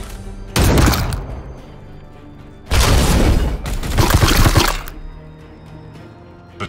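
Weapon firing in Warhammer 40,000: Chaos Gate, two loud, heavy blasts a couple of seconds apart, each a roaring burst with crackling debris that rings on briefly before dying into quiet.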